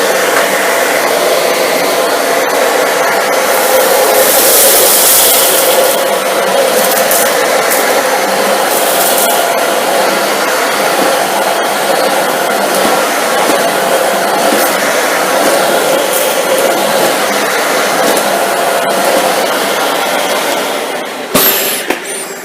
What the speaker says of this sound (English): So let's see how this machine performs.